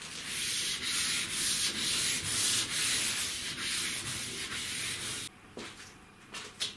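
Sandpaper is rubbed over cured body filler on a car panel, producing loud, rhythmic back-and-forth scratching strokes close by that stop abruptly near the end, followed by a few light scrapes.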